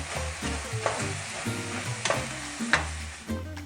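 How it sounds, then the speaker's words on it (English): Chopped brown onion and ground beef browning in a pot, loud sizzling broken by repeated scraping strokes of a spoon breaking up and stirring the meat, close and without talk. "just keep on mixing it up, breaking it up, just until the onions and the meat have browned all the way through"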